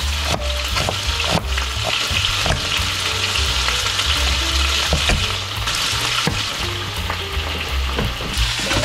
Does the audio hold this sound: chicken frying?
yes